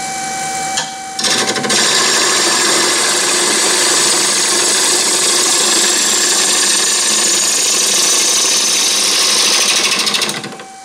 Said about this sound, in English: I don't think this little lathe has got enough horsepower to get me that many RPMs